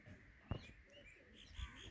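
Pigeons outdoors give a few faint, brief coos and flutters in a quiet setting, with soft chirps around them.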